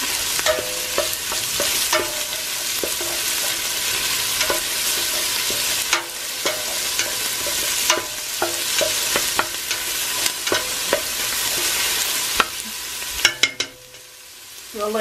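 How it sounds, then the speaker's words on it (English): Vegetables sauté in a pot for beef stew, giving a strong, close hiss of frying under regular scraping stirs that pause near the end. "We'll let this saute for about four to five minutes."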